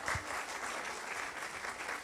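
Strong applause from a conference audience at a pensions lecture, an even wash of many hands clapping that carries steadily for a couple of seconds.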